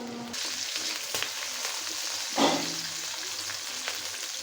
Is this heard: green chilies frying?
yes